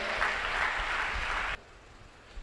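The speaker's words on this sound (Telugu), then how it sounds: "కొట్టు చప్పట్లు ఒకసారి" Church congregation clapping together for a short stretch, fairly steady and dense, then cutting off abruptly into quiet room tone with a faint thump at the end.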